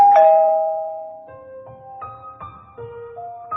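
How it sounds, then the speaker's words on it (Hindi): Electronic doorbell chime playing a clear, loud ding-dong followed by a short series of ringing tones that decay, heard alone without any voices. "डोरबेल की आवाज सुनते ही"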